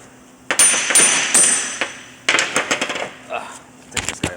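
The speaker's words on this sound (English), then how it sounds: "I'm going to take a minute to hammer this guy out" Hammering out a metal part of a Kia/Hyundai 4WD coupling in irregular bursts of sharp, ringing strikes, a few quick clusters with brief pauses, close and loud.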